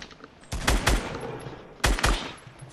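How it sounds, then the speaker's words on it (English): Rapid automatic gunfire in the video game Fortnite comes in two loud, close bursts, the first longer and rattling, the second shorter about a second later, with a quieter background between them. "Chase, you got someone shooting at you"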